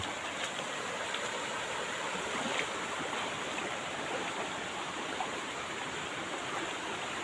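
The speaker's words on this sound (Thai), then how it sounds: "น้ำล้นถนนเลย" Water floods over a road, rushing and gurgling steadily, a constant broad wash of flowing water nearby with no voices.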